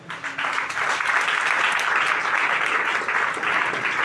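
A church congregation claps and cheers in praise, a loud, dense wash of applause that swells quickly and holds steady throughout.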